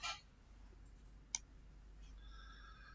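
A computer mouse gives a faint, crisp click in a quiet room, with another soft click near the start, as a user works in 3D animation software.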